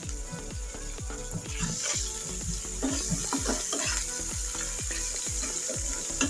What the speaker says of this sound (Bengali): আমি একটু ভালো করে তেলের পর আদা ও রসুন জিরাটা একটু ভেজে নিচ্ছি।